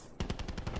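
Rapid bursts of gunfire in Call of Duty: Black Ops 4's firing range ring out, about seven sharp shots in a quick automatic rhythm, loud and close.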